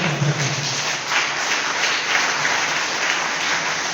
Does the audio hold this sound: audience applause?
yes